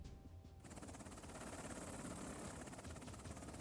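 Chinook helicopter in an Afghanistan war video game, a loud continuous rotor thrum with rapid blade chop that starts abruptly after a brief quiet moment and holds steady.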